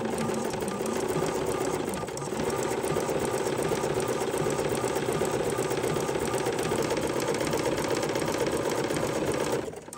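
A sewing machine runs a rolled hem along flowing fabric, its needle motor humming and chattering at a steady rapid pace, close and loud, stopping abruptly near the end.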